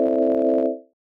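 A synth chord stacked an octave up by a chord MIDI effect sounds as a single sustained, bright tonal chord that holds for under a second and then fades out cleanly, heard alone.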